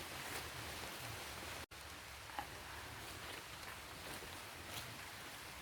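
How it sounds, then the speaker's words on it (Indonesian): Steady, soft rain patters continuously with a faint hiss, broken by one brief dropout and an occasional louder drop. "Udah mulai hujan lagi."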